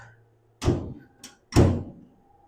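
The rear-hinged suicide door latch on a 1929 Chevrolet coupe being converted to a roadster shuts with a solid, close metallic clunk, then a faint click before a second heavy clunk as it unlatches.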